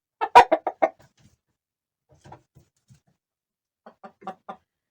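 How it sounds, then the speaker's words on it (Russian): Two roosters cluck in a quick burst of several notes, then scattered soft clucks, and another short clucking run near the end; nearby, with no talking. "Два петуха. Вон какие красивые."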